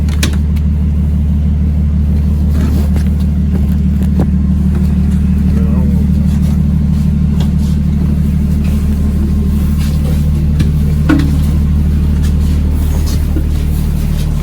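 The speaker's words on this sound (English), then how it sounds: "This bus is close." A city bus idles at the curb with a loud, steady, close engine rumble and a low drone that holds throughout, with faint clatters on top.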